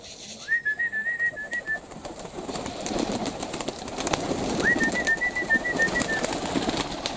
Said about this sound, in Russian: Видишь, мы свистим, а они тоже это слышат.